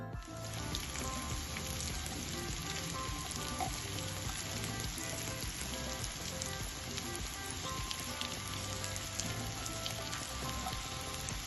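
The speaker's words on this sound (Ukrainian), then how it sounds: "І відразу на пательню." Steady, crackling sizzle of breaded broccoli frying in hot oil in a pan, continuous and close, with no voices.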